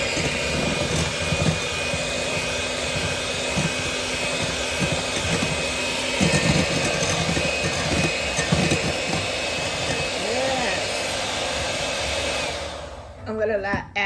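An electric hand mixer whirs steadily and loudly through batter with butter for about twelve seconds, beaters knocking against the bowl now and then, before it switches off and the sound falls away at the end.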